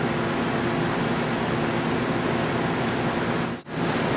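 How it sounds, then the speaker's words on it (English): Diamond hone working inside a plated engine cylinder, giving a steady, dense grinding hiss that runs unbroken at even loudness and cuts out for a moment near the end. "That's how we diamond hone a cylinder."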